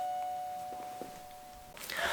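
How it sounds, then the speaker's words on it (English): A doorbell chiming indoors, a clear sustained tone ringing at moderate distance before fading, followed by a burst of rustling noise. "Oops, someone rang the doorbell."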